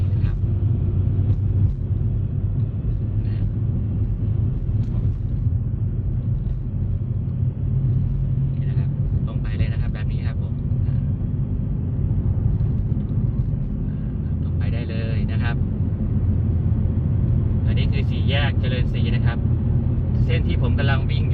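Steady low engine rumble and road noise from a car driving along Lao Na Di road in Khon Kaen, continuous throughout, with someone talking over it.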